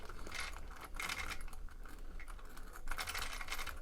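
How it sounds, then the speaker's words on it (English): An XRAY XB2 2wd competition RC race car, its very free differential letting the brushless motor turn easily, gives off a faint, close clicky ratcheting and whirring with no voices. "That noise is, because the diff's so free, then it's very easy to turn the brushless motor."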